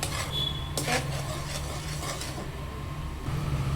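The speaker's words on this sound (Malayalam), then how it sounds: "ഇങ്ങനെ തിളച്ച് വരുമ്പോൾ ഇടയ്ക്കിടയ്ക്ക് ഒന്ന് ഇളക്കി കൊടുക്കുക, അരി പിടിക്കാതിരിക്കാൻ" Rice boiling in a pot being stirred now and then so it does not stick, a soft steady bubbling hiss with a couple of clear metal scrapes against the pot, close and with no talk.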